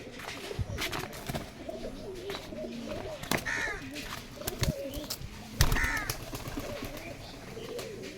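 Pigeons coo and flutter at a busy outdoor pigeon market, with overlapping calls, wing claps and bursts of crowd noise around them, fairly close and lively.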